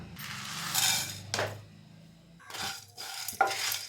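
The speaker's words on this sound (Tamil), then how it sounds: "இதை வாசனை வர வரைய வறுத்துக்கலாம்." Whole spices, including coriander, pepper, cumin, fennel, cinnamon, cloves, dried chili and curry leaves, are dry roasted in a pan, giving a few close scraping and rattling stirs with a metallic clink between quieter gaps.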